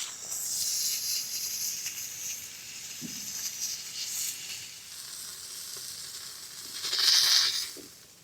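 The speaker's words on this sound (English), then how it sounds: "Beautiful sear on the outside" Boneless beef prime rib sears on a Masterbuilt Gravity Series grill, a continuous close sizzling hiss that swells and fades, with a louder flare of spitting near the end.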